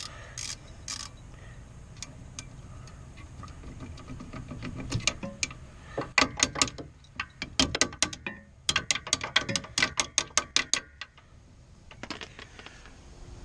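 A ratchet socket wrench clicks on a rusted, low-grade brake bolt of a Chevy Impala during a rear brake rotor and pad job, giving bursts of rapid close ratcheting clicks in the middle of the clip.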